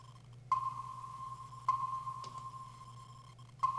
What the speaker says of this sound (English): I found this like 80s style, just like click sound